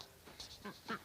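A few soft duck quacks come in quick succession, faint and close, over a quiet background.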